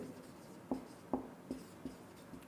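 Chalk or marker writing a sentence on a classroom board during a physics lesson, heard as a series of short, distinct scratchy strokes in an irregular rhythm, fairly close and faint, with no talking.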